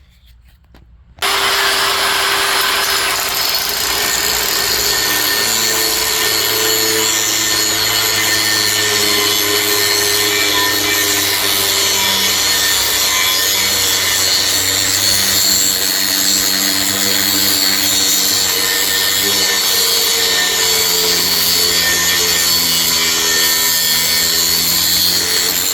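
Angle grinder sharpening the cutting bits of a Power King stump grinder on the machine, the wheel held still by a small hand clamp; a loud, steady abrasive whine starts after a second and runs unbroken, with no talking.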